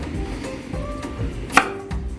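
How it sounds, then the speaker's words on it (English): A knife chops carrots on a board in a few distinct, close cuts, one sharp knock standing out, with no talk during the clip. "Chopping one end, chopping the other sketchy end off like that."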